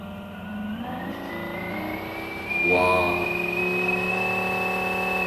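A 6 hp electric outboard boat motor has its throttle pushed forward, giving a smooth whine that climbs in pitch and then holds steady. A brief exclamation from a voice comes partway through.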